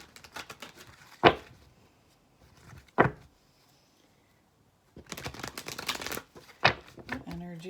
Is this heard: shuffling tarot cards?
yes